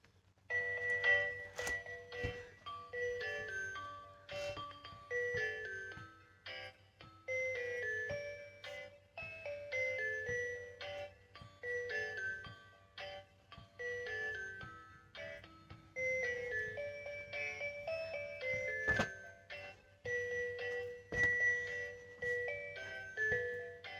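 A musical Christmas toy plays the Jingle Bells melody in thin, bright chime-like notes, steady and continuous, over a faint low hum.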